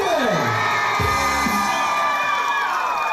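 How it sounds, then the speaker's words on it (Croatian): Audience at a live show taping in Seattle cheering and whooping loudly all together, with gliding tones sweeping down beneath the crowd noise at the start. "Jedan veliki aplauz."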